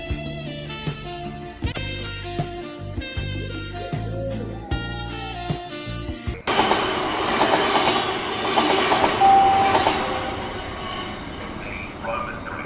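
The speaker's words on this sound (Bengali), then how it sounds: "চলো ট্রেনের সময় হয়ে যাচ্ছে, চলো।" A cartoon train rolls along with a loud, dense rumble and clatter that starts abruptly after a stretch of music and carries on steadily to the end, with no talking over it.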